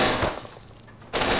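Gunshots in the video game Ark Survival Evolved: a loud burst of fire at the start, a quieter gap, then another sharp burst near the end.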